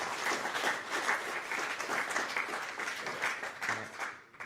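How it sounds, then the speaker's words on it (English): Audience applause at a New Zealand young pipers' light music competition, a steady round of clapping from a seated crowd that holds for several seconds before tapering off at the end. "round of applause for you guys."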